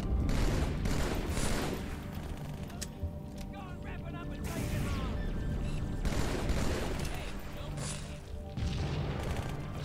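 Grenade blast and gunfire in the video game Halo 2, with booming explosions and bursts of shooting over a noisy battle. Someone talks over the combat.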